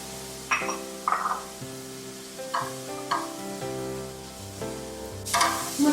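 Garlic cooking in simmering pizza sauce, a low bubbling sizzle punctuated by several spoon clinks and stirring scrapes against the pot, close up with a louder clatter near the end, no talking.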